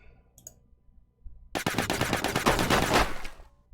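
A sustained burst of rapid automatic gunfire in the video game Silent Storm, starting abruptly after a quiet stretch with a few faint sounds, then a loud, fast run of shots lasting about two seconds.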